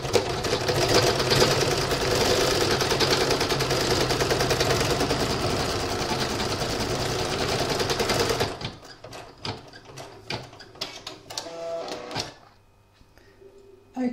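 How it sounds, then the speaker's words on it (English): An embroidery machine stitches a Kreative Kiwi spider web design, a loud steady rapid mechanical whirr for about eight seconds, then it slows into scattered clicks and stops. "I'm going to pop that back in my machine now and stitch colour number 2"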